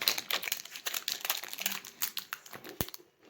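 Plastic foil wrapping of a surprise egg crinkles and crackles steadily up close as it is torn open, a dense run of small rustling crackles with no talking.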